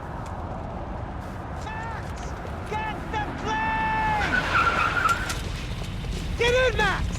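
A car in the Max Payne 3 video game revs and its tires skid, giving several short squealing bursts over a continuous engine drone, with voices shouting in the scene.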